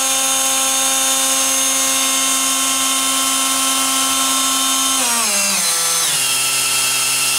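Machine running at its top speed of 16,000 RPM, a loud, steady tonal whine that holds, then steps down in pitch near the end as it slows, with no voices.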